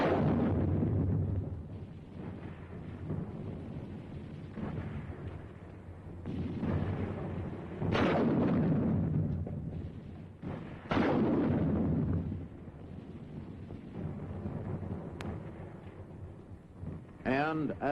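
Combat gunfire from an automatic rifle and a 3.5-inch bazooka, heard as repeated heavy booms and bursts under someone narrator's continuous voice, with loud blasts standing out at intervals.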